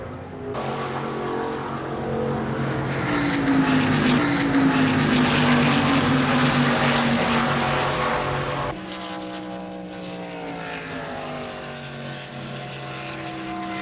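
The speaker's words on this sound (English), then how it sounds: "the car is running at full speed" Bill Elliott's NASCAR stock car runs at full speed on track, its loud, sustained engine drone swelling and bending in pitch before abruptly shifting to a steadier, lower roar.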